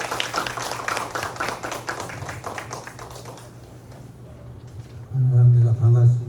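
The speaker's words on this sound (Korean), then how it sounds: "큰 박수로 환영해 주시기 바랍니다" Audience clapping welcomes a speaker to a Korean civic forum lecture, a burst of individual claps that thins and fades out, followed by a low, loud rumble of handling noise near the end.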